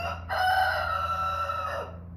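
A rooster crows once, a loud drawn-out call rising and falling over about a second and a half, with faint farmyard background around it.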